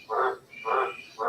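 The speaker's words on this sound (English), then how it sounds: "the frogs are going well tonight" Frogs croak at night after rain, three evenly spaced, fairly close calls repeating in a steady rhythm against a quiet background.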